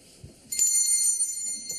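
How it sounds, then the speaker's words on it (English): A bell is struck once on a pub bar counter, giving a bright metallic ring that hangs on and slowly fades, close and clear with no talking. "You ring the bell."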